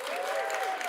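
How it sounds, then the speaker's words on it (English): A short burst of applause at a farmers' reception during the Sundance Film Festival, with steady clapping from the gathered audience and a faint tonal sound running beneath it. "Give them a round of applause."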